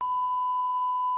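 A phone call notification beep while filming on the phone, a single steady pure electronic tone holding clear and loud for just over a second with no talk.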